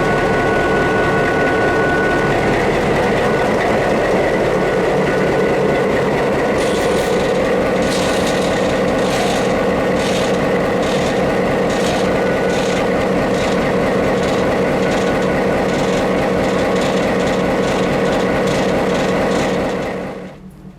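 The EMD 567 16-cylinder diesel engine of a classic FP9 locomotive on the Texas State Railroad drones loud and steady, with rhythmic wheel clatter layered on top, before cutting off abruptly at the end.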